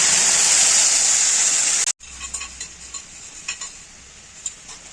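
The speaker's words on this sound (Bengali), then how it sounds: "জিরে, ফোড়ন দিয়ে দেব। আগে থেকে পেস্ট করে রাখা মশলা দিয়ে কষিয়ে নেব।" Cumin and dried red chillies tempering in hot oil with a loud, bright sizzle that cuts off abruptly, then a quieter frying of spice paste with scattered scraping and clinking of a spoon in the pan.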